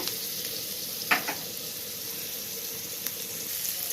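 An egg fries in a pan over a low flame for egg biryani, a steady soft sizzle throughout with a couple of brief clinks or stirs, and no voices.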